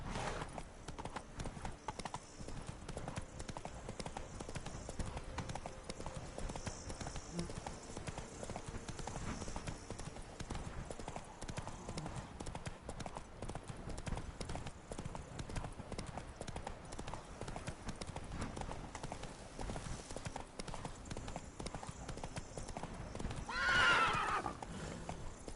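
Roach the horse's hooves clip-clop in a steady, continuous rhythm in the Witcher video game, with a short whinny near the end over a busy game background.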